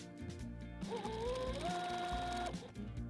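A sewing machine runs in one sustained burst, stitching fabric piping with a piping foot, its motor whine steady over a rapid mechanical needle clatter, close and alone.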